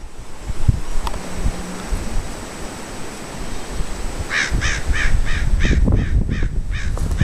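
Crows caw out in open country, a run of about eight harsh calls in steady rhythm near the end, fairly close over a low wind-like hiss.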